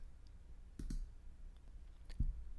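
Two quiet, crisp mouse clicks about a second apart, close and isolated against a faint background hum.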